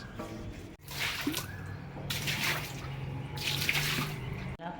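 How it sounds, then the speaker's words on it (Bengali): Water poured and splashed outdoors while cleaning around a house in Bengal, a steady rushing wash with surging bursts of spray over several seconds, close and fairly loud, with no talking. "আর এই বাইরেটা একটু জল দিতে হবে"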